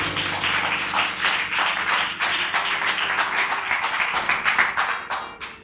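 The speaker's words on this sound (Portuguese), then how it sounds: "Dê uma salva de palmas ao Senhor" A church congregation gives a round of applause for the Lord, dense rapid clapping from many hands, loud and sustained and tapering off toward the end.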